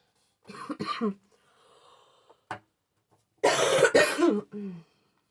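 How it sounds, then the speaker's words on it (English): Several harsh coughs in two clusters, close and loud, separated by quiet breathing and a short throat sound. "I caught a cold in December, and since then I keep coughing"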